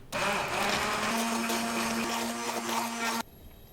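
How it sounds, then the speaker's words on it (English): A motorized immersion blender whirs loudly and steadily for about three seconds, blending a cream, its pitch holding even, then cuts off abruptly. "With an immersion blender, go down and make this into a fine, kind of rough little cream."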